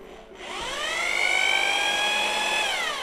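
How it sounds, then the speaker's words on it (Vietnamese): An electric rotary hammer drill runs in normal drilling mode, spinning up after a brief pause into a steady high whine that holds loud and close to the end. "chức năng khoan thường"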